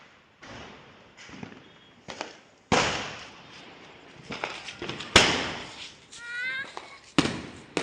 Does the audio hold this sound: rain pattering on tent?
no